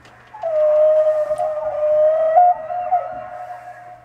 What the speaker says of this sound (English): Song of the humpback whale.